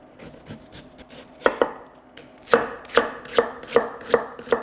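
A kitchen knife cuts a section off a vegetable on a cutting board while kimchi is being prepared. A few soft taps come first, then a steady run of sharp, close chops at an even rhythm, with no talking.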